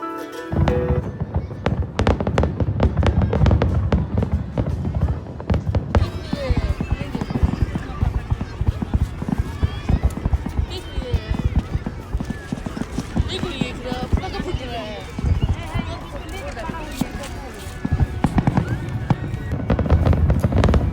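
Dense, continuous crackling and popping of fireworks bursting rapidly at a Saudi National Day celebration, loud and sustained, with a voice talking underneath.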